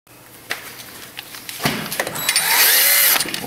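Rotary burr working rust out of a ball joint bore on a Ford Explorer Sport Trac, a rising high-pitched whir that starts faintly and grows into steady close grinding with short scraping bursts.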